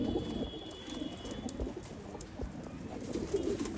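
A purebred male Kalanka pigeon coos in low, repeated throaty rolls, moderately close, with faint background ambience and no talking.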